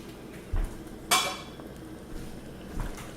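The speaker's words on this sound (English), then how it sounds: "I'm gonna put the top on it." Metal lid set onto a cooking pot of simmering chicken dumplings, a single bright clanking clatter after a soft thump, followed by quieter low knocks in a calm kitchen.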